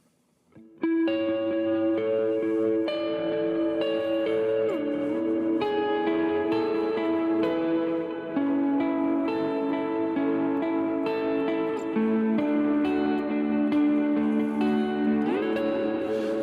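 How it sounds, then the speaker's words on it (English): Electric guitar played through an effects patch with distortion, chorus and echo, sustained ringing chords and melodic lines that start after a short quiet moment and continue loud and steady, with no talking. "let me switch up to a different patch here, a patch that I've been using a lot, and I really like the tones out of this one"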